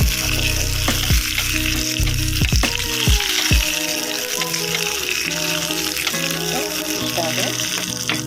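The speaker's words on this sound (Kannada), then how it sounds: "ನಂತರ ನಾನು ಇದಕ್ಕೆ ಕರಿಬೇವು ಸೊಪ್ಪನ್ನು ಕೂಡ ಹಾಕ್ಕೊಳ್ತಾ ಇದ್ದೀನಿ" Curry leaves crackle and sizzle loudly in hot tempering oil for jackfruit sambar, just after the gas stove is turned off; the spattering fades gradually and someone talks over the frying.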